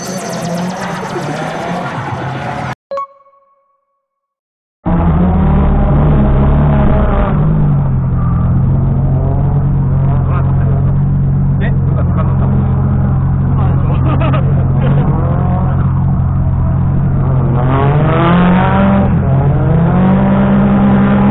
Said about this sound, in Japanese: ドリフト撮影します。